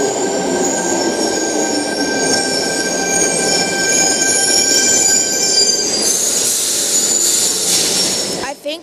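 A Sydney Trains Tangara set rolls past close by, a loud continuous rumble with high wheel squeal and steady tonal whine, brightening partway through and cutting off at the end.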